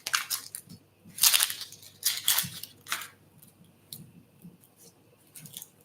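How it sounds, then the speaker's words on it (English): Papery skin is peeled from a halved red onion, giving close, crisp crackling and tearing bursts with soft squeaks, irregular and fairly quiet, with no talking. "I love the sounds of the peeling."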